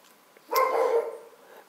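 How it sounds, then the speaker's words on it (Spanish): A pet dog gives one short, sharp bark close by, sudden and alone, cutting through an otherwise quiet indoor background. "Ha ladrado y me ha asustado."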